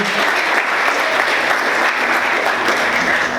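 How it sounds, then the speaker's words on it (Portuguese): Church worshippers clap loudly for Jesus in a sustained burst of applause, many hands blending into a constant, close, energetic roar. "Vamos aplaudir Jesus"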